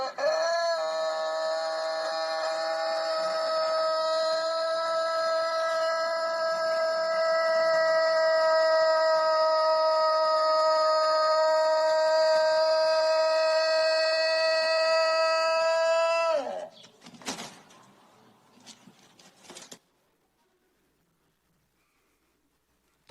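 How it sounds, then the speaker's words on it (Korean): A rooster crows in one extremely long, loud, sustained call lasting about sixteen seconds, then breaks off abruptly into a few scattered noises before falling silent. "닭은 우는 게 사명입니다."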